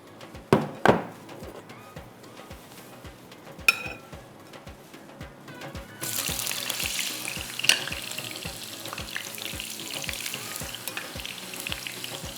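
Potatoes fry crispy in a pan, sizzling continuously under regular ticking taps, with a few louder clinks and scrapes early on and the hiss growing stronger partway through.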